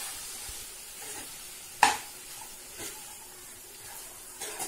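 Cooked rice is stirred into mutton gravy in a pan, giving a soft, low sizzle with one sharp scrape of the spoon and a few fainter stirring touches, close and quiet, no talk.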